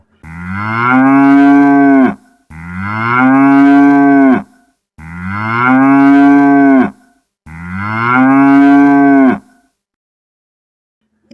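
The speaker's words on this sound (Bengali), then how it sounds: "গান গাইতে অনেক ভালোবাসত তাই সে হাম্বা হাম্বা করে গান শুরু করলো" A cow moos four times in a row, each a long, loud, close bellow of about two seconds separated by short gaps, followed by silence.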